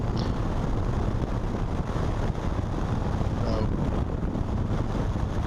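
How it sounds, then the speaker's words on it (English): Kawasaki Vulcan 1500 motorcycle cruising along a road, a constant loud rumble mixed with heavy wind rush against the microphone, unbroken for the whole stretch. "it's a really enjoyable ride though to ride on the Vulcan 1500"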